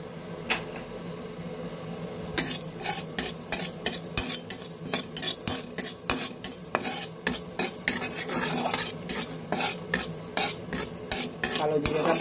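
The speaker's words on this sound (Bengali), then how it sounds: "এখন ওই কড়াইটার মধ্যেই হালকা আছে কালো জিরাগুলো ঢেলে নেব।" Black cumin seeds are stirred and dry-roasted in a wok, with a fast, regular series of metal spatula scrapes and clinks over a faint, steady sizzle, heard close and without any voices.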